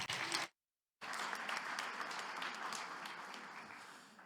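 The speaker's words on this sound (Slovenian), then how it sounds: "tako da en velik aplavz" A school audience applauds a student stepping up at a youth mental health event: dense, steady clapping that breaks off for a moment, then resumes and slowly fades.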